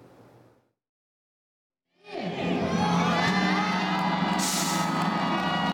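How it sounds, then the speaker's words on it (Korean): A crowd of citizens at an outdoor city-hall plaza bell-ringing ceremony bursts into loud cheering and whooping after the New Year countdown, a sustained roar following a short silence. "카운트다운이 끝나고 환호성이 터집니다."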